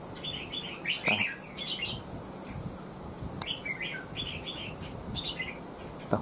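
A red-whiskered bulbul chirps in repeated short, bright phrases, moderately close, over a steady background hiss and faint insect-like noise, with no one talking.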